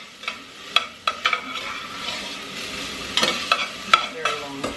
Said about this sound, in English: So we just saute this just so it gets, you know, a little translucent.